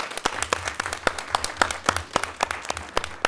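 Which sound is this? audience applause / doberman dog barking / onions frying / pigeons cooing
audience applause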